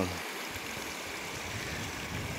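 Mountain river with reddish, iron-stained water rushing through a deep gorge in the Asturian mountains, a steady broadband roar of flowing water, fairly distant and continuous with no voices.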